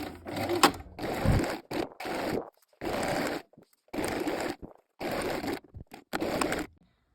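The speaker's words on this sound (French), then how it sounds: "Donc, vous allez coudre votre dessous de poche." A sewing machine stitches the lining of a wrap skirt pocket in short, regular bursts of rapid clatter separated by brief pauses, close and fairly quiet.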